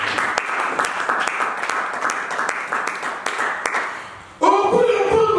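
A church congregation applauds in a dense, steady clatter of many hands that fades away, then a voice speaks loudly.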